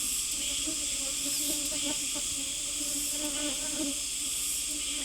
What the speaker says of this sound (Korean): 창포꽃을 드나드는 벌들을 자세히 살펴보면 일정한 통로로 드나드는 것을 알 수 있다